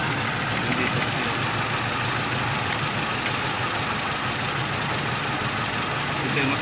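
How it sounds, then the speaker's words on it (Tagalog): Toyota Innova gasoline VVTi engine idling with a misfire, a constant close mechanical rumble with a faint uneven knock running through it, steady throughout. "Kasi mas malakas ang palyo nito."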